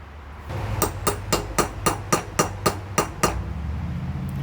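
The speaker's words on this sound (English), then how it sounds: "I just use a 10mm socket, stick it on there, and then pound it down." A 10mm socket is hammered down onto a valve seal in a 1996 Honda Accord cylinder head, giving about a dozen sharp metallic taps in an even, brisk rhythm, close and clear against a quiet workshop.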